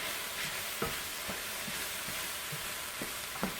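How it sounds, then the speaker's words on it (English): Chili with chili powder is stirred in a pan, a quiet continuous sizzle under a handful of soft, spaced scrapes and taps from a utensil, with no voices. "Give that a stir."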